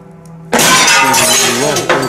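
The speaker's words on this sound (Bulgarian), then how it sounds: "Още няколко стъкла се чупят." Glass window panes shattering in a sudden loud crash with a long bright spray of breaking shards, then a second burst of breakage near the end.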